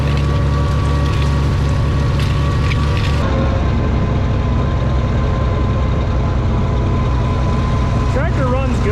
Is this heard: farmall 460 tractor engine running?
yes